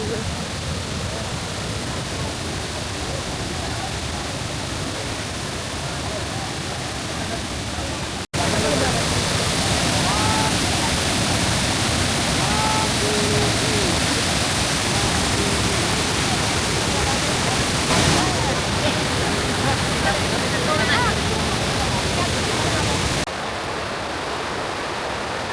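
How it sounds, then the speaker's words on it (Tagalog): Steady broadband rush of a waterfall in Taipei, Taiwan, constant and fairly loud from start to finish, stepping up sharply in level partway through as if moving closer. "Nandito na tayo sa may waterfall."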